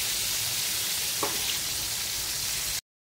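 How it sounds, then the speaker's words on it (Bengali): Vegetables sizzle steadily in refined oil in a pan, a dense, continuous frying hiss that holds at an even level before cutting off abruptly near the end. "রিফাইন অয়েলে সবজিগুলো ভাজলাম"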